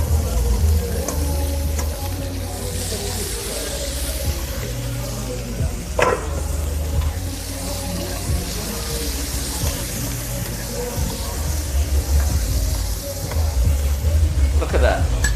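Onions frying in a pan as the base of a sauce for fish at an outdoor jerk food festival: a continuous close sizzle with occasional stirring scrapes and clinks, and a brief sharp knock midway.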